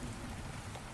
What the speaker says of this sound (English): I can't hear you over the rain. Oh my god, this rain